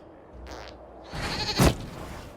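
A goat bleats in Dragon Age: Inquisition, with one brief bleat near the start and a louder, rougher bleat later, set against low background noise.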